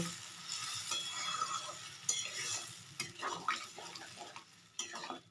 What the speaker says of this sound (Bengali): এখন আমি মটরটা দিয়ে দিলাম, দিয়ে ভালো করে মশলা আলুর সাথে মিশিয়ে নেব।